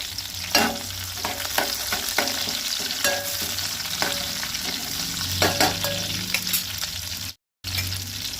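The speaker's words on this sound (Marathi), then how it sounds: "आतां तितून करविल्याची पानां घालता।" Curry leaves and chopped green chillies sizzling in hot ghee for a Goan sweet semolina sheera, a close, steady crackle broken by spoon scrapes and stirring knocks, with a brief cut to silence near the end.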